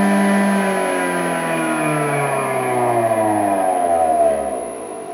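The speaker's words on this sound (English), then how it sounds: "and now I'll start the motor" An electric motor starts up on a single-phase supply during an inrush current test, giving a steady whining, harmonic-rich tone whose pitch slides through the clip before easing off near the end.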